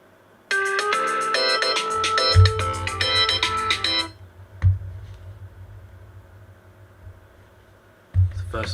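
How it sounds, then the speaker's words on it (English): A phone alarm rings loudly with a bright, repeating electronic melody for a few seconds, then stops, leaving room hum and a few thumps with brief talk afterward. "It's the first alarm of the stream."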